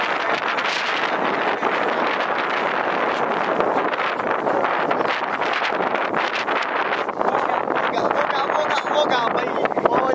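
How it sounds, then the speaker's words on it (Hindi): Strong gusting wind blowing outdoors, a continuous loud roar of buffeting against the microphone with rustling from trees swaying nearby, unbroken for the whole stretch. "देखा दोस्तों आज कितनी तेज हवा चली है"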